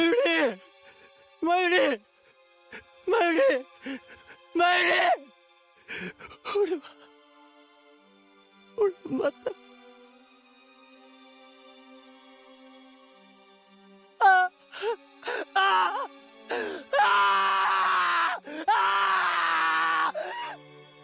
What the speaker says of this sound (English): That's a great scream.